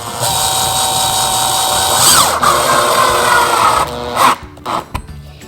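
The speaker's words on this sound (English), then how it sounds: "Here's where I'm going to screw it in." A handheld power drill drives small screws into a DIY vanity mirror, a close, loud whining buzz that rises and strains over a few seconds, then stops in short bursts with clicks and handling noise.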